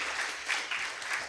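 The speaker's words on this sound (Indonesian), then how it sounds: "Kita beri tepuk tangan dulu untuk jurusan Ilmu Komunikasi FISIP Unsri" An audience at a public discussion claps steadily, a dense, continuous burst of applause from many hands with no voices over it.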